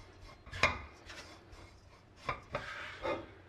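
Homemade pork floss mixed with crumbled seaweed is stir-fried in a wok over the lowest heat, giving soft, quiet scraping and rubbing strokes with a few sharper clinks of a utensil against the pan.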